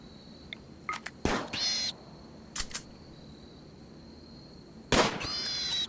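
Gunfire in the colony-building video game RimWorld: a few sharp, loud shots in short bursts separated by pauses, over a thin steady tone and quiet background.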